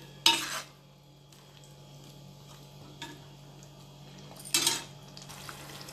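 A spoon stirs masala frying in a pan for Andhra-style fish curry, with two distinct scraping sweeps about four seconds apart, faint clinks between them, and a quiet sizzle underneath.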